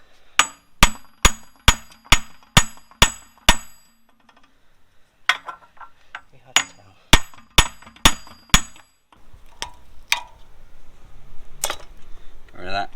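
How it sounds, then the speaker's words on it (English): A hammer drives a 30mm socket against a BMW E30 trailing arm hub, first in a steady run of about eight sharp metallic clangs, then a pause and a second burst, ending in scraping and rattling of metal. "a 30mm socket which is the right size to be knocking out the hub from behind with a hammer"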